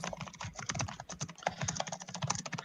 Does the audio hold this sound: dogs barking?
no